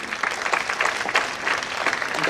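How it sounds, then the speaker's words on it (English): Audience applause fills a conference hall after a talk by the SCORE Foundation CEO, a steady, dense clatter of many hands held at an even level with no pauses. "Clapping time also counted?"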